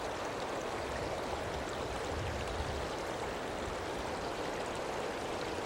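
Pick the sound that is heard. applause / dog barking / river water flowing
river water flowing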